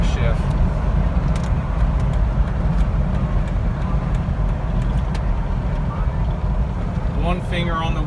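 A 2006 Jeep Wrangler LJ rolls along after the driver lifts off the throttle, its engine and road rumble steady and close throughout, with someone talking over it near the end.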